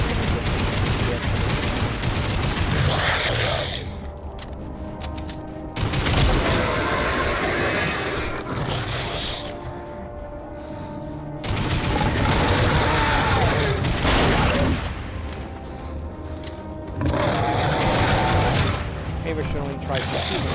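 Gunfire aimed at a monster in the video game Lost Planet 3, heard as loud, dense bursts of shots that surge and fall back repeatedly across the clip, with blasts mixed among the shooting.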